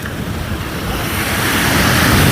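Loud, continuous roar of Arabian Sea waves surging and breaking on Porbandar beach, with wind buffeting the microphone and no voices.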